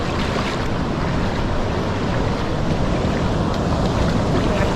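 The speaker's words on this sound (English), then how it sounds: "This is the open ocean in the Pacific." Ocean waves wash over a Pacific reef in the open ocean, a loud, steady, full-bodied roar of surf with wind buffeting the microphone throughout.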